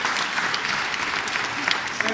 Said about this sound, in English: So, Bolashakers, please round of applause to Sayasat Nurbek.